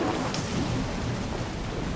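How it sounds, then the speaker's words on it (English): Timefall rain in the game Death Stranding falls steadily in a dense hiss with a low, continuous rumble of thunder beneath, heard close and unbroken. "Sitting in Timefall Rain while that conversation happened"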